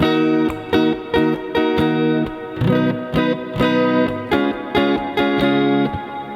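An acoustic guitar strums the intro and verse chords of a song, playing a bright, rhythmic pattern of crisp down-and-up strokes with short pauses between chord changes, close and alone.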